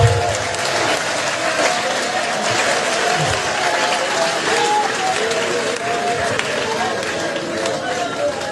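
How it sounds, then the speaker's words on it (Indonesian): Congregation applauding at a church revival service in Tompaso Baru, a loud sustained clapping wash heard throughout with scattered voices and crowd noise underneath. "Berikan tepuk tangan yang paling dahsyat sama Tuhan."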